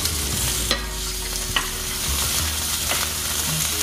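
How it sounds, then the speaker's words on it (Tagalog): Onion cooking in a pan for beefsteak with broccoli, a steady soft sizzle with a few sharp clicks of stirring, close and continuous with no talk. "Itong sibuyas ang lalagay ko. Para maluto siya."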